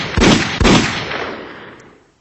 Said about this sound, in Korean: 순간 네 발의 총성이 울렸다.